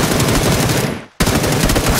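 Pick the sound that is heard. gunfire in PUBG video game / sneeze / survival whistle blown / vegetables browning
gunfire in PUBG video game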